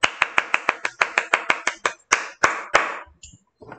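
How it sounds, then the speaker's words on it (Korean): A class clapping hands together, a string of crisp, evenly spaced claps that quicken and then fade into a few scattered final claps, close and loud. "박수, 박수."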